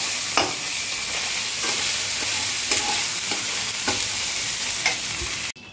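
Ginger garlic paste frying for a gondhoraj lemon chicken makes a loud, continuous sizzle punctuated by regular spatula scrapes and taps against the pan, ending with a sudden cutoff.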